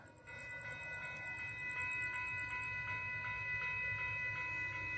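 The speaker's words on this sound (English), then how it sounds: "Train comes, traffic picks up." Southbound train passing a road crossing in the evening, a steady rumbling roll under a sustained multi-tone horn or crossing signal with faint ringing, moderately distant and continuous throughout.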